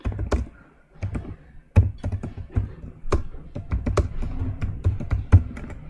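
Keys clatter on a computer keyboard as a firm name is typed into an online income tax return form, with irregular bursts of close, crisp taps and brief pauses.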